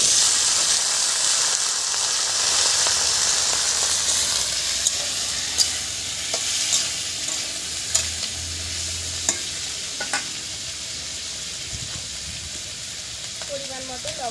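Chopped taro goes into a pan of frying onion, garlic and green chilli, producing a moderate sizzle with repeated spatula stirs and metallic clinks that soften toward the end.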